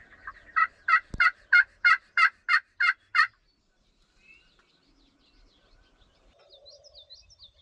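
Wild turkey gobbling outdoors during a hunt: a rapid run of about eight loud, clear gobble pulses after a sharp knock, then quiet with faint distant bird calls.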